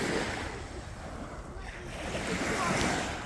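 Baltic Sea waves wash ashore at Sopot, a continuous broad roar of surf with wind rushing across the microphone, steady and fairly close.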